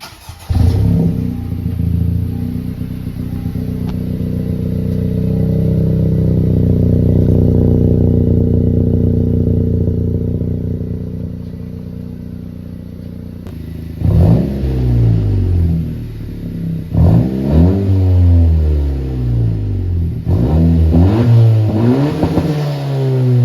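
Honda Civic Si with an MA Performance race exhaust, a sustained loud rev that rises and falls, then several sharp quick blips with rapidly climbing and dropping pitch, close and alone.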